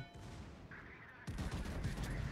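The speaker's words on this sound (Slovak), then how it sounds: "Sekundárky sú zapnuté" Secondary guns on a naval warship in an online battle game fire in a rapid, crackling volley, growing louder and denser halfway through against steady battle noise.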